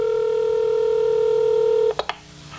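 A 1990s telephone call being dialed: a steady touch-tone beep holds for almost two seconds, then two short sharp tones follow in quick succession.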